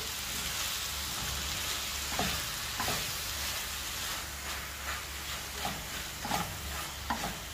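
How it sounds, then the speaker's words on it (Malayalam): Ripe plantain mixture with sugar being stirred in a pan, a soft continuous sizzle with scattered scraping and clinking of the spoon, quiet and close. "അതിനുശേഷം വീണ്ടും നല്ലതുപോലെ എല്ലാം കൂടെ ഇളക്കുക."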